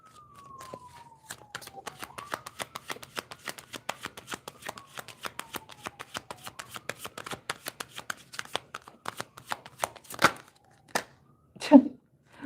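Tarot cards being shuffled by hand, a steady run of quick crisp riffling clicks close up, ending with a couple of louder slaps as the deck is squared.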